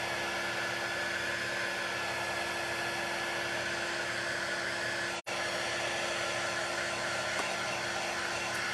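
A hair dryer blows steadily at close range over a freshly painted craft project, a constant loud whooshing hum that cuts out for an instant midway and then resumes.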